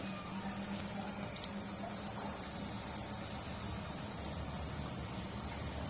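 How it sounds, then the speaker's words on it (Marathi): Water being poured into a pot of bombil fish curry, a steady, soft, continuous liquid rush close by with no talk. "तर याच्यामध्ये मी पाणी घालते"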